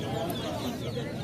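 Chickens clucking at a busy poultry market selling hens and ducks, a dense murmur of fowl sounds under crowd noise and nearby talk.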